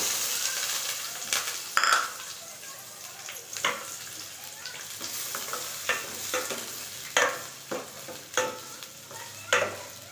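Chopped onions fry in hot oil while a spatula stirs them, with a continuous bright sizzle and repeated scraping strokes at an uneven rhythm, close and fairly loud.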